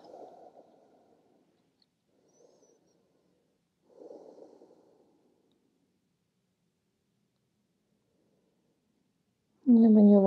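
Slow, soft breaths during a yoga pose in a quiet room, with a few gentle exhales separated by long silences before a voice begins speaking at the end.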